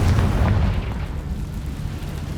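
A Confringo fire-blast spell explodes in Hogwarts Legacy inside a cave, a loud deep boom with rumbling burst that decays over a couple of seconds.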